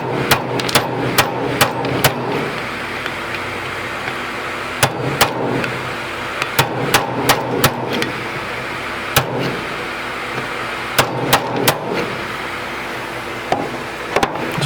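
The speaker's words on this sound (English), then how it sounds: "Okay, Mr. Hammer, do your work." Repeated sharp metal hammer blows on a stuck part of a flood-damaged Polaris 325 ATV engine, loud irregular strikes in quick bursts with short pauses between.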